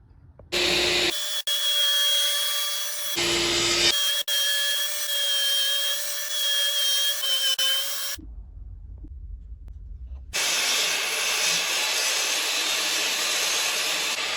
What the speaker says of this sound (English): I had to use the miter saw and cut each line top and bottom, then finish it off with the jigsaw.